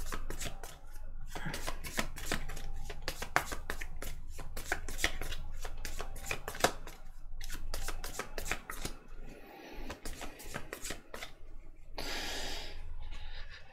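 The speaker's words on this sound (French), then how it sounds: "Alors mélangeons." Tarot cards being shuffled by hand, a close series of rapid riffling and slapping bursts in uneven rhythm, soft but crisp, with a louder rustle near the end.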